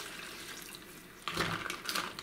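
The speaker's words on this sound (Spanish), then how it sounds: "Y agregamos aquí el agua." Water poured from a container into a cooking pot for tamale sauce, a short steady splashing pour that starts partway in and runs close and loud until the end, over quieter kitchen background.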